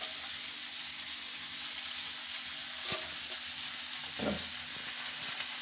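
Mustard seeds and chana dal frying in oil for a lemon rice tempering, a soft continuous sizzle close by, with a couple of brief clinks and spatula scrapes partway through.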